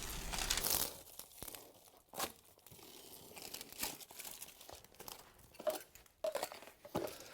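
Peel-and-stick underlay for wood flooring being cut up against a wall, with scattered crinkling, tearing and crunching bursts spread across several seconds, close and fairly quiet.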